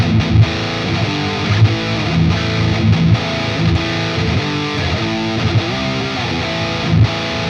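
An electric guitar runs through a Fortin Hex Drive overdrive plugin set to zero drive, full volume and the tone nudged up slightly. It plays loud, steady, gritty chords and picked notes with no talking.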